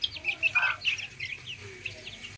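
Chickens and chicks cluck and peep softly nearby, with quiet, irregular chirps overlapping one another.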